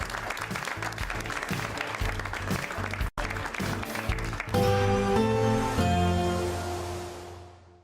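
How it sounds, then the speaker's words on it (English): A studio audience on a television talk show breaks into applause. Dense clapping runs for about four seconds, briefly cut, then gives way to a loud musical sting that fades out. "a big round of applause for Janet Murray."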